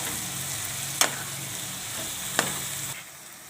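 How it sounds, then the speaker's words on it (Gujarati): Spinach tipped into dal frying in a pan is stirred, giving a steady close sizzle with two sharp scraping clacks of a spoon against the pan before the sound drops away near the end. "હવે આપણે પાલક નાખી દઈશું."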